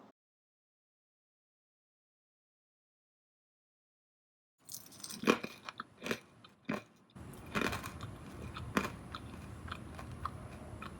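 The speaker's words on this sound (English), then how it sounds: "Yes, you heard every bite." Crispy mung bean fritters being bitten and chewed close up, sharp crunchy bites followed by steady moist chewing after a few seconds of silence, with no talking.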